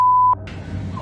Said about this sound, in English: And then a door alarm goes off.